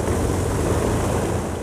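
Avro Lancaster bomber's piston engines rumbling through startup, a loud, steady broadband roar with no break, close by and without voices.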